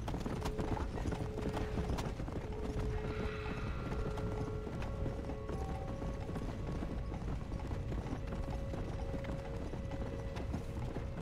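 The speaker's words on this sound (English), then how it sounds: "Horse is casually on fire." Steady hoof clip-clops from a horse in Red Dead Redemption: Undead Nightmare, the horse on fire, with mechanical clanks and faint tonal hums throughout the busy, continuous scene.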